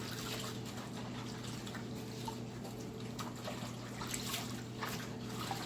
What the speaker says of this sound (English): Let me get my hands washed